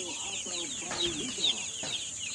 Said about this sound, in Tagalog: ito yung aming manukan